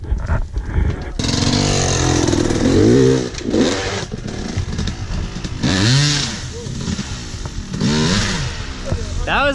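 A dirt bike engine on a trials stunt run revs hard and loud in repeated rising throttle bursts, each surge climbing and falling, with voices speaking between the revs.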